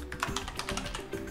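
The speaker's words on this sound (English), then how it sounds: "So go to the browser and now type in" Close, quiet typing on a Lenovo IdeaPad 5 laptop keyboard, a steady run of light key taps with no talking.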